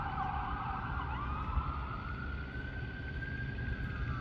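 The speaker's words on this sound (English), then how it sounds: "Is that an ambulance?" An ambulance siren wails continuously in the distance, its pitch slowly sweeping up over steady traffic rumble.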